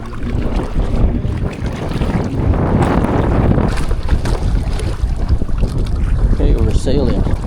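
A Hobie sailboat sails upwind while tacking on open water, with constant loud wind buffeting and rushing water noise close to the microphone, and faint voices underneath.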